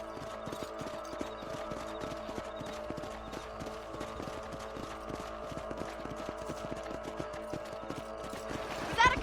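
Horse hooves clip-clop in a steady, continuous rhythm while riding in Red Dead Redemption, moderately loud and unbroken, with a brief louder burst at the very end.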